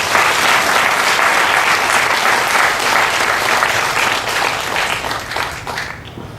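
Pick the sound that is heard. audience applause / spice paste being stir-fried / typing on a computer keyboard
audience applause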